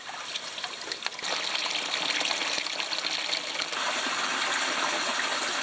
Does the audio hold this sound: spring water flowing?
yes